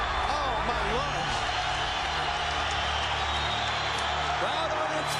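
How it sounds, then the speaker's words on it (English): A boxing arena crowd on its feet at the Gatti versus Ward fight, a dense, sustained roar of cheering and shouting with commentary over it. "Crowd on its feet."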